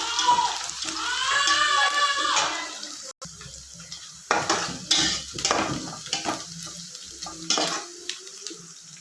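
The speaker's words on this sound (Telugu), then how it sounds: "ఆనియన్స్ అయితే ఫ్రై చేస్తున్నా" Onions fry in a pan on a home stove, a soft crackling sizzle with stirring scrapes and intermittent clatter, close by under occasional speech.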